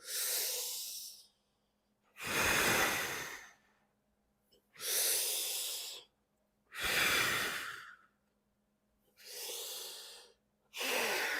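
Deep, slow breaths during a strength workout with spinal extension: loud, close inhales and exhales alternate in an even rhythm, about six breaths with short silences between.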